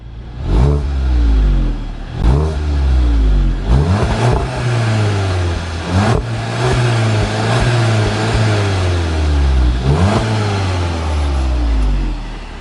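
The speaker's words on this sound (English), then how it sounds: "Do you do cheeky couple of revs?" Volkswagen MK7 Golf GTI engine revved hard several times in a row, each loud blip climbing and falling back to a steady idle, with a rumbling exhaust and no talking.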